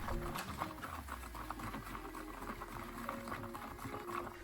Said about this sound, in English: I pour 200 milliliters of water in here and stir.